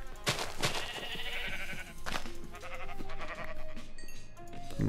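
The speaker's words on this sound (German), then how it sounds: "Schafe" Sheep bleating in Minecraft, two or three wavering bleats close by over a few seconds, clear and alone without talk.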